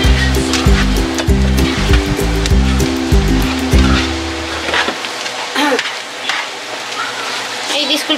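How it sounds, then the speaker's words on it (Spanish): Nopales frying with onion in a pan on a stove, a steady wash of sizzle heard close under background music and a voice. "Frío un poquito los nopales,"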